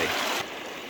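Short burst of flowing water from a stream crossing in Scotland, a close stream rushing and trickling, louder at first then settling to a softer steady flow.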